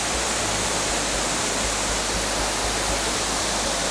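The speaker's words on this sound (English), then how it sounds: "we made it to Water Tank Hollow Falls." Water Tank Hollow Falls, a waterfall in Pine Creek Valley, roars as a steady, dense broadband rush with no pauses, loud and close, with no voices over it.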